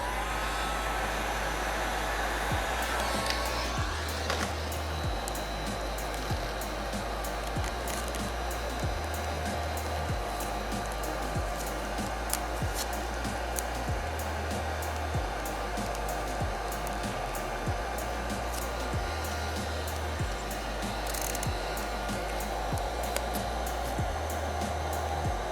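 Heat gun blowing continuously while heating vinyl wrap on a car side skirt, a steady loud airy roar with small shifts in pitch over about 25 seconds, no talking.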